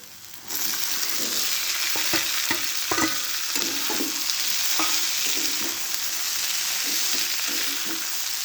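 Fried vegetables tipped into hot oil with spices crackling for a Bhogi vegetable dish, a steady loud sizzle that starts abruptly, with scraping stirs and clinks of a spoon against the pan throughout.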